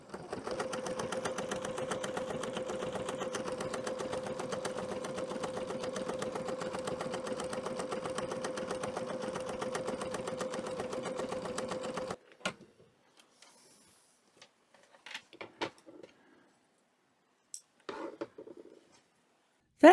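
A Bernina sewing machine stitches chain stitch 38 in a rapid, even, buzzing run for about twelve seconds, then stops, leaving quiet with a few scattered handling clicks and rustles.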